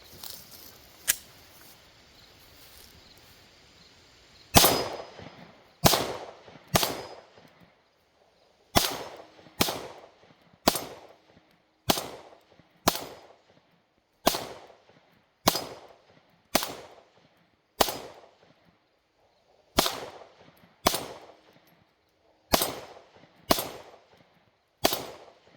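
A Sig Sauer M18 pistol firing outdoors: one early loud shot, then a long string of about fifteen sharp reports spaced roughly a second apart, each ringing out and decaying before the next, with no talk.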